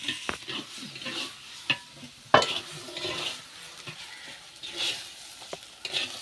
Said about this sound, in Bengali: এবার একটু নেড়ে চেড়ে নামিয়ে নেব